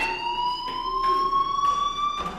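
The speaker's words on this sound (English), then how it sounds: "do you hear that fire alarm?" The school fire alarm in the Life Is Strange video game rings continuously, a loud, steady electronic tone that pulses in even bursts with no talking over it.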